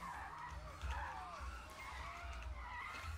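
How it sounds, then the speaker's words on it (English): Tires screech from a Kia car driving fast into a garden area, with thin squealing glides over a constant rumbling engine and road noise. "the screeching tires of a fresh Kia can be heard driving into the gardens"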